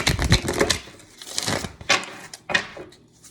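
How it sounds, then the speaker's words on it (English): Tarot cards being riffled and shuffled by hand, several quick papery bursts of flicking and snapping separated by short pauses, close up with no talk. "Let's do one more ruffle and shuffle here."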